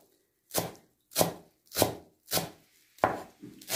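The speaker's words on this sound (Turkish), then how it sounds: "Şimdi sıra geldi maydanozlarımızı doğramaya." Knife chopping parsley on a cutting board in a kitchen, six sharp evenly spaced strikes about two-thirds of a second apart, close and fairly loud with nothing else under them.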